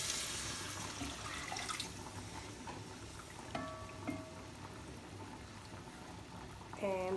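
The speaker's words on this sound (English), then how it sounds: "So now the water goes in." Water pours into a pot of frying vegetables for tomato soup, with hissing sizzle, bubbling and utensil clinks, and a brief gurgling pour near the end.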